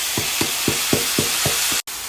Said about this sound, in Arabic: ونقلب الرز قلبتين مع الزيت والبهار.